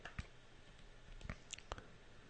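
Keys clicking as numbers are punched into a calculator for a law of cosines homework problem, a few sparse, quiet taps spaced irregularly over a faint steady background hiss.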